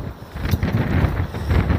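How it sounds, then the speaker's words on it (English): Strong wind blasts into a microphone outdoors, making close, heavy rumbling buffets that surge and dip over a couple of seconds. "Now it is extremely windy, so let's hope this mic really, really helps."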